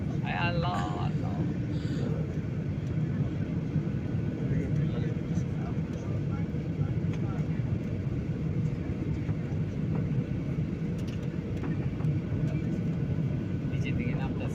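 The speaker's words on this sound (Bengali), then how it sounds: "মেঘের বাতাসে প্লেনও হেলে দুলে চলছে।" Inside an airliner cabin on a flight from Dhaka to Kathmandu while passing through turbulent clouds, a constant dense low roar of engines and airflow fills everything, with faint indistinct voices underneath.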